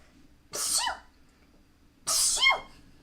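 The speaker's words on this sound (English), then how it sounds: "I'm gonna sneeze." Two sharp sneezes, the second about a second and a half after the first, each a quick burst with a breathy tail, close to the listener.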